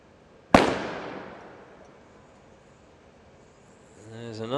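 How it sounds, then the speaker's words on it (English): A single sniper rifle shot fired from the top of a tower at a SWAT challenge. It is a sharp, loud crack with a long echo that fades away, and a voice starts near the end. "There's another shot from the top of the tower and another miss."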